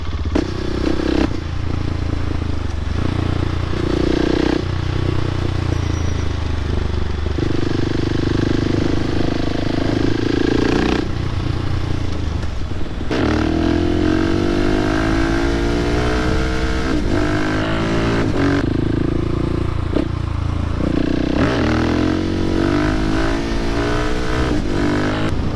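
Husqvarna 701 motorcycle engine running close by, a loud, continuous single-cylinder drone that rises and falls through several revs and throttle changes, with no voices.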